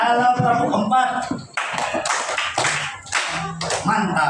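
A class of primary school children in a classroom clap in unison in short rhythmic bursts amid loud chatter and a teacher's voice, with the claps mixed in among ongoing speech.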